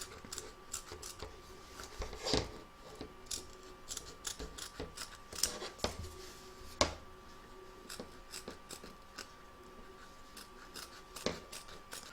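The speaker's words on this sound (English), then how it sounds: "turn the hoop over and cut around the edge, taking care not to cut the stitches" Scissors snip repeatedly around the edge of an in-the-hoop embroidered stacked snowman on the back of the hoop, trimming close to the stitching; crisp, close, irregular cuts of varying loudness over a quiet room, with no talking.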